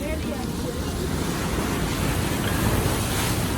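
Water released from a dam rushes in a loud, unbroken roar, a dense wash of noise with wind buffeting the microphone throughout.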